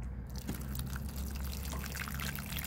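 Water pours onto the soil of a potted dragon fruit plant in a steady, close trickle that runs unbroken for the whole stretch, with no voices.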